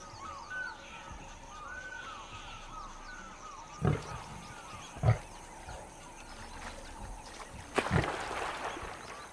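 Lions squabble over the last rotting spoils of a decaying carcass in a river valley, with rough growls and snarling bursts rising at intervals over a constant outdoor background of water and wildlife.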